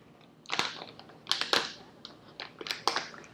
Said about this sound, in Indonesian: Mbak Lili masih ngetik ya